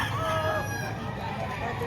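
A Talisayin fighting rooster crows loudly and close at a Saturday cockfowl market in Lipa, Batangas, its strained, drawn-out call rising over busy market chatter and other birds.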